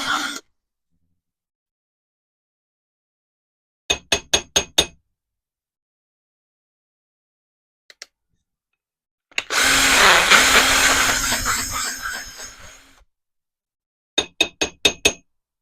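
A worn drill bit bores into a golf club wedge head during club-head removal, heard as a loud sustained whir of about three seconds between short bursts of metallic clinks and taps, separated by long silences.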